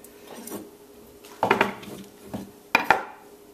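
Green figs (green bananas) are ripped off the stem by hand in a kitchen, with a few sharp crackling snaps and rustling handling in irregular bursts, fairly close and with no talking.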